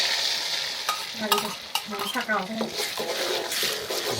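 Egg and spice mixture sizzles as it hits hot oil in a home kitchen, with a spatula scraping and stirring through it in quick irregular strokes; steady frying hiss runs throughout, close and fairly loud.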